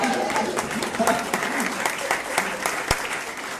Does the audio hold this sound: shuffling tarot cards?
no